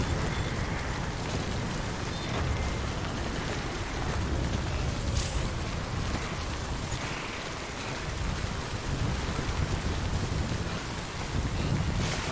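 Steady heavy rain pours continuously with a low rumbling undertone like distant thunder, no voices, in the video game Death Stranding: Director's Cut.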